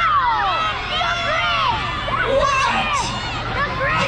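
A crowd of children at a Christmas lights event shouts and cheers in a continuous loud, high-pitched din of overlapping squeals and whoops, with adult chatter mixed in.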